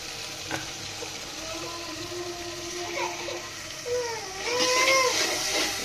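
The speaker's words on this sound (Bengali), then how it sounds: "দেখতেছেন আমি একদম মশলাগুলো কষাই ফেলবো।" Spices fry in hot oil for a bottle gourd curry, with a steady sizzle and hiss, while stirring adds intermittent scraping and squeaky tones that grow louder toward the end.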